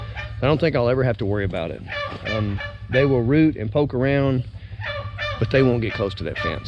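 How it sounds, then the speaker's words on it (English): A noisy meat turkey on a farm near an electric fence lets out repeated loud honking calls close by, mixed in among a person talking. "I have a noisy meat turkey"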